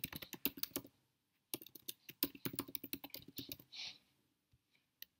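Close, quiet typing on a computer keyboard comes in rapid bursts of clicking keystrokes, with short pauses between runs and a few isolated taps near the end.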